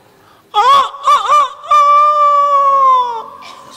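A man imitates a chicken with his voice: a few short, wavering squawks followed by a long, drawn-out crowing wail, loud and close in a quiet room.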